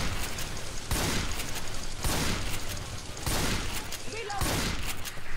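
Gunfire in the zombie shooter Left 4 Dead 2: dense, continuous fusillade of rapid shots with repeated heavy bursts, loud and close throughout.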